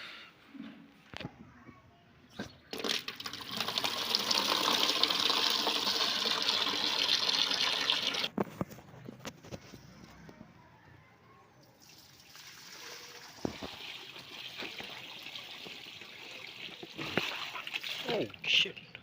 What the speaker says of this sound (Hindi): तो चल के पौधों को पानी देते हैं।